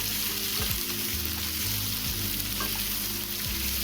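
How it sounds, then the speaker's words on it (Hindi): Mixed vegetables and capsicum fry in a handi with a steady close sizzle, joined by a low hum and occasional scraping strokes of stirring; no one speaks. "चलिए इसे थोड़ी देर अच्छे से फ्राई कर लेते हैं वेजिटेबल को।"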